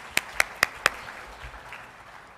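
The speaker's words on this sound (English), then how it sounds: "I think that will deserve one more round of applause" Four sharp, evenly spaced hand claps from a government briefing audience ring out close and alone, then fade to faint room noise.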